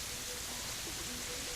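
Steady rain in the video game Terraria, a soft even hiss of falling drops that carries on unbroken, faint and alone.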